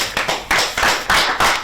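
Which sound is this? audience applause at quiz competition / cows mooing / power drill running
audience applause at quiz competition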